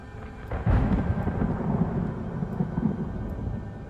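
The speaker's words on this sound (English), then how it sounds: "now the storm started." Thunder from a storm in a scary VR game rolls in with a sharp crack, then a low, sustained rumble and hiss of rain that keeps going loud and close throughout.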